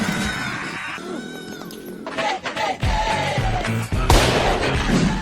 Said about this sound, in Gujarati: ભાઈ ઈ ફટાકડે તો ફૂટ્યો